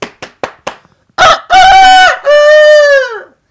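A human voice mimics a rooster, opening with a few short clucks and then launching into two long, loud, drawn-out crows, close and clear against silence.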